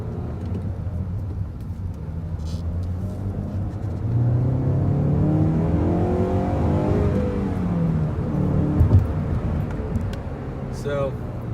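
2013 Honda Civic Si Coupe accelerating at almost full throttle, the engine drone rising steadily in pitch then easing off, heard from inside the car under road rumble.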